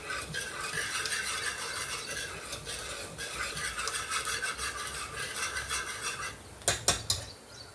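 Cooked lentils (dal) are mashed in a pot with a masher, making continuous close scraping and squishing strokes, followed by a few distinct knocks against the pot near the end.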